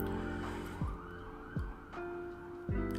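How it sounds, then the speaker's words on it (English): An ambulance siren sounds outside, distant and muffled, with repeated downward sweeping wails over a steady low hum of nearby indoor noise. "Lots of ambulances come by today."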